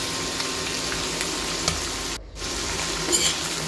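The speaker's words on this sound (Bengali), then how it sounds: "তারপরে সবগুলি মশলার সাথে ভালোভাবে কষিয়ে নিতে হবে" Mutton frying in a pan with ginger-garlic, cumin and coriander pastes gives a steady, close sizzle with stirring. The sizzle briefly dips around the middle, then resumes at the same level.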